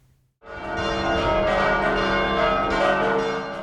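Large bells of an archcathedral basilica start ringing after a brief quiet moment, their resonant overlapping tones swelling and sustaining loudly through to the end.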